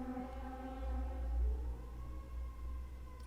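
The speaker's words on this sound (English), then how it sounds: "there are sirens outside" Sirens wailing outside, heard faintly and at a distance through a room with a steady low hum, their long tones slowly sliding and overlapping for the whole stretch.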